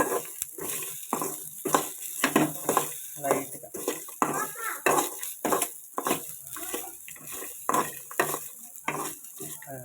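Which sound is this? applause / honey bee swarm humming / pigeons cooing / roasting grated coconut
roasting grated coconut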